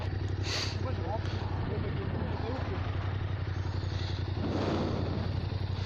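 A Yamaha MT-07 motorcycle engine rumbles steadily as it pulls away in first gear, with a constant low drone throughout and people talking over it.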